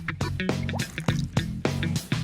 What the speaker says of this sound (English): A little green food colouring in some water.